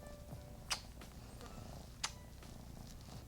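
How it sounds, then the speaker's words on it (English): A pet cat purrs softly and steadily up close, a low continuous rumble with two faint brief clicks over it. "This is my kitty, Leo."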